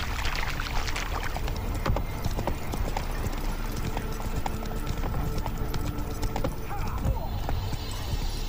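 Roach, the horse in The Witcher 3, galloping in the game: a continuous clattering run of hoofbeats over noisy ambience, sustained throughout.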